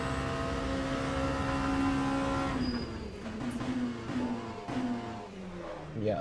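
An LMP2 prototype race car engine in the racing game Le Mans Ultimate at Bahrain: a high harmonic engine whine holding steady, then dropping through downshifts with brief revving bursts, close and loud without talk.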